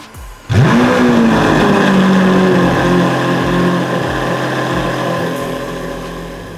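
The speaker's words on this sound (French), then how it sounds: "Et vous allez voir, la voiture vombrit, le son est absolument dément." A Lamborghini Aventador S V12 starts with a sharp bark and settles into a loud, roaring idle that stays close and dominant, with steady rumbling pulses throughout.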